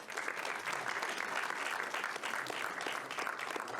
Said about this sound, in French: Applaudissez-le copieusement